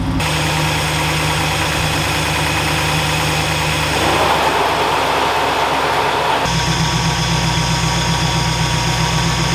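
Ford Galaxie engine idling at 1400 RPM, a loud, steady, close running drone with a brief rougher stretch midway.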